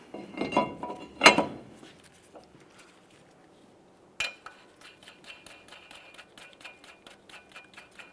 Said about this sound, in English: Let's install the brake rotor.